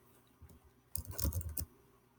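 A brief burst of typing on a computer keyboard, a few soft isolated taps followed by a quick cluster of clicking keystrokes, quiet and close, with no voices.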